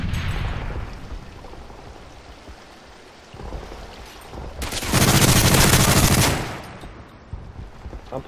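Gunfire in Call of Duty Modern Warfare 3 during a Search and Destroy match on the Arkaden map: busy game noise, then a loud dense burst of shots lasting about two seconds before fading back into the background.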